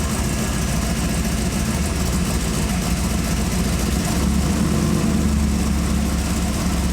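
Chevrolet Camaro engine idling loudly, with a deeper low-end swell partway through as the throttle opens a little, close-up and continuous with no talk.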